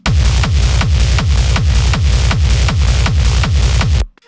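Gritty Reese bass in an old-school schranz track with heavy sidechain pumping, loud and distorted, throbbing in a rapid steady rhythm of about eight surges before stopping abruptly.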